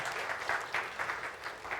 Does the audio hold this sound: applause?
yes